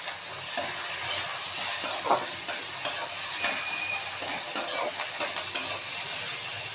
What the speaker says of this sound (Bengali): পেঁয়াজগুলোকেও লাল লাল করে ভেজে নেওয়া হবে